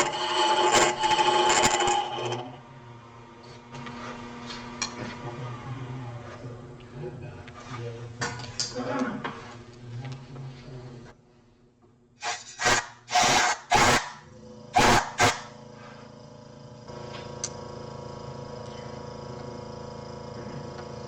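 A sharpened cutter shapes a wooden Christmas ornament spinning on a lathe, giving close scraping and rubbing in bursts, with short sharp clicks and quiet pauses between passes.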